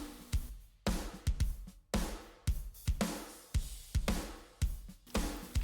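A drum kit with a steady beat of punchy kicks and snare hits runs through parallel compression using Decapitator and Smash and Grab processing. It plays alone at moderate level with a subtle saturated edge.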